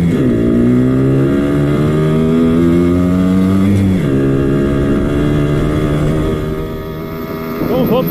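A Simson moped fitted with a nitrous oxide system accelerates, its two-stroke engine note climbing steadily in pitch, then dropping at a gear change and rising again. The engine is loud and close throughout, with a voice talking over it.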